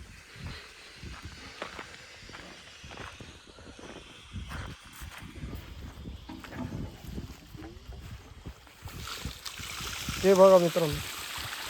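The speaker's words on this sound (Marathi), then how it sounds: "हा जो पाण्याचा प्रेशर तुम्हाला दिसतोय हा GK एनर्जी 5 HP प्रेशर आहे मित्रांनो" Water gushes from a 3-inch pipe fed by a GK Energy 5 HP solar pump in a farm field, a steady rushing flow with wind noise on the mic and someone talking over it throughout.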